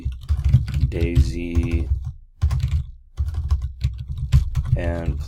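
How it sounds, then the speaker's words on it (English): Computer keys clatter in quick, steady strokes close by while someone talks over the typing almost throughout. "now you can start typing in some information"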